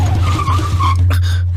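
A car brakes hard to a stop, tires skidding with a loud squeal over a low engine hum for about a second before the noise breaks off.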